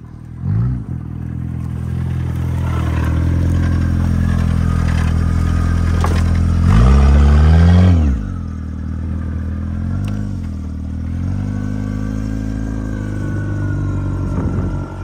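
A Honda Civic convertible revs hard through a reverse burnout in a muddy field. The engine drones loud and close for the whole stretch, climbing to a peak in the middle before dropping back and surging again.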